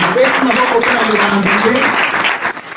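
Church congregation applauding during a service, a dense, steady patter of many hands clapping close by, with voices calling out underneath it.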